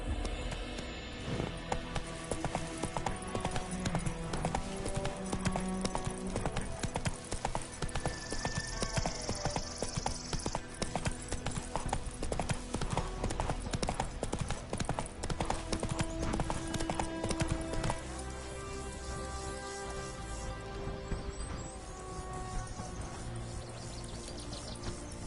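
Roach the horse galloping in The Witcher 3, a dense continuous clatter of hoofbeats over a long stretch, with a faint whinny and little speech.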